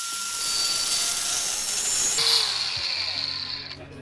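An angle grinder's abrasive wheel cuts through a bike lock outdoors at the Sea Otter Classic, a loud, continuous high-pitched whine and grinding hiss that drops in pitch midway and fades slightly toward the end.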